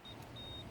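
Two thin, high electronic beeps, one short and one longer, sound quietly over a low idling engine hum, from a car during an automatic gearbox oil check.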